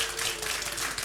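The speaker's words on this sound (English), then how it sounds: "you should clap and scream" An audience at a tech talk claps, a brief dense burst of applause from a crowd.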